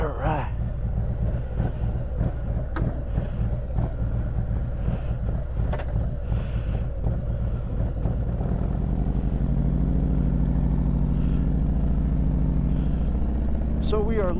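A Harley-Davidson Road Glide Special with an S&S 475 cam idles with a lumpy, uneven rumble that grows louder and deeper near the end, while someone talks over it.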